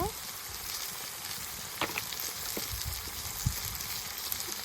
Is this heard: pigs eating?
no